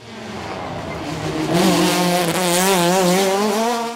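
A classic Ford Escort RS 1600 race car accelerates hard up a hill climb course, its engine note climbing and wavering loudly through the rev range as it passes close by.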